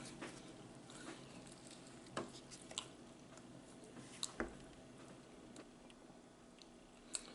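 Chewing a McDonald's Chicken Big Mac with three dry buns, heard as soft wet squishing and mouth sounds with a few sharper crunchy bites spread out, close but very quiet over a faint background hiss, no talking.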